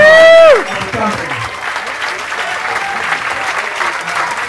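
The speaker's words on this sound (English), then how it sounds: "Give these guys a big round of applause." Audience applause at a company thank-you gathering, a dense steady patter of many clapping hands that runs on after a short tonal note fades at the start.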